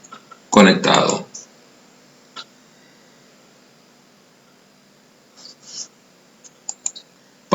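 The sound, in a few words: RAM memory modules clicking into motherboard slots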